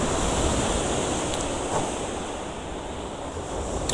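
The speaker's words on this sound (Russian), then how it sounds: "Такие волны сильные." Strong sea waves crash and wash on a rocky shore near Simeiz in Crimea, a continuous loud roaring surf with wind noise buffeting the microphone.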